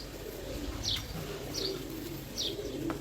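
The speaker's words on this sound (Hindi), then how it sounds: "ये देखें जी कबूतर।" Pigeons at a Faisalabadi pigeon flying contest give soft, repeated calls in three evenly spaced bursts, set against a steady outdoor background hum.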